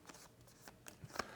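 A deck of cards is shuffled in a few quick riffling bursts, close and quiet, with short gaps between the riffles.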